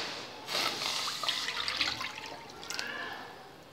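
Milk poured into a pan for oats payesh, a short, faint, steady liquid pour lasting about three seconds, then trailing off, without speech.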